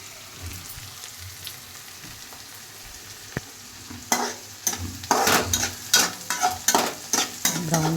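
Onions and green chillies sizzle in a hot pan for a chicken fry, quiet at first, then loud crackling bursts and stirring scrapes from about four seconds on, close and continuous with no talking.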